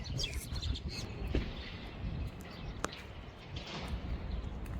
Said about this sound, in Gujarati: કાબર બેન.